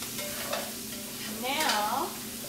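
Onions fry in a pan with a steady low sizzle, while a person's voice and a tonal hum run over it midway.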